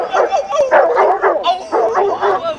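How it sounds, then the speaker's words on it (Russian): A dog from the film Rocky barks and yips in a quick series of sharp, close, loud calls with whimpering tones between them, heard alone. "именно этого пса, лучшего друга Сильвестра, мы имеем счастье видеть в фильме «Рокки»"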